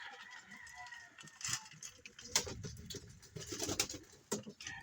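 Racing pigeons in their loft make soft flutters, scuffles and pattering bursts, with faint coos and rustling at close range, fairly quiet overall.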